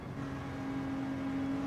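Race car in Gran Turismo 7 braking and shifting down into third for a fast chicane, a steady engine drone with a rising tonal whine that holds through the short stretch, fairly quiet and with no talking over it.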